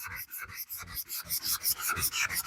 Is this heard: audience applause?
no